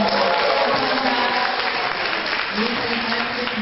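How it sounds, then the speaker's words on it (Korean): An audience at a company's 2018 year-end party claps together in a dense, continuous round of applause, with a voice faintly audible beneath it. "이분들 화면에 올릴 때 큰 박수, 감사의 박수."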